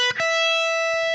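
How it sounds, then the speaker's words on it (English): A distorted electric guitar plays quick hammered-on notes that settle into a single sustained ringing note, with a soft pick noise at the end, loud and alone. "I'm going to hammer 12, 14, 15 on the 3rd string and then do a flat finger across 12 of the 2nd and the 3rd."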